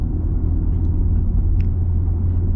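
A 2024 Ram 1500 with the Pentastar V6 cruising, a steady low engine rumble and road drone inside the cab, moderately loud and without talk.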